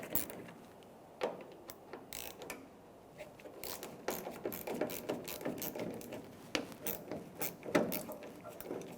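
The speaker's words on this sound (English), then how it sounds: "So with a 10mm socket or wrench," A 10mm socket ratchets on the tailgate mounting bolts of a 2000-2006 Toyota Tundra, giving faint, quick clicking ticks in uneven runs with a few sharper clacks.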